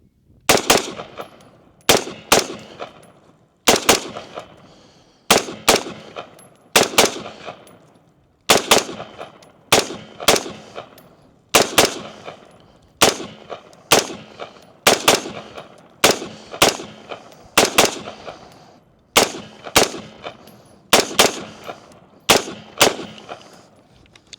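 A rifle fires rounds loaded with Ruag primers in quick bursts, sharp loud cracks grouped in twos and threes with short pauses between strings, repeating steadily through the whole stretch.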